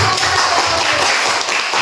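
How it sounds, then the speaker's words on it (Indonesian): A fifth-grade class applauds in a classroom, a steady wash of many hands clapping together for nearly two seconds, fairly loud and close. "Oke, berikan tepuk tangan dulu."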